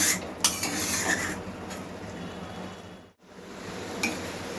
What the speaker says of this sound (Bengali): ধিমি আঁচে রেখেই আমি এটা মশলাগুলো ভালো করে কষিয়ে নেব।